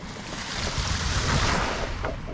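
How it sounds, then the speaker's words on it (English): Small waterfall in Iceland, a steady broadband rush of flowing water with some wind noise on the microphone, fairly close and continuous for a couple of seconds with no talking. "Found a little waterfall."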